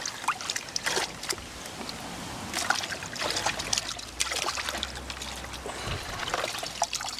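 Water splashes and trickles out steadily during a Cornish waterless car wash session, with sloshing, dribbling and occasional sharper splashes close by and no speech over it.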